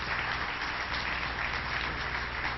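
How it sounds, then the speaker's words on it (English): An audience applauds at a political event in Albany, a steady wash of clapping that holds evenly throughout without breaks or voices standing out. "Let's give him a round of applause."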